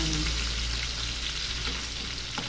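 Onions frying in plenty of rendered pork fat for bagoong alamang, a steady close, loud sizzle holding evenly throughout with a faint stir near the end.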